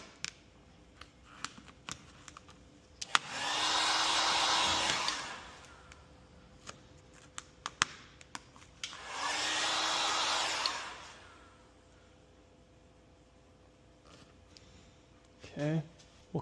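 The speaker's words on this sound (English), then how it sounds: "Heat it up and just glass out that film." A heat gun warms tint film on a 2019+ Chevrolet Silverado taillight, blowing in two separate bursts of steady airy whooshing, each a couple of seconds long, with quiet handling noises between them.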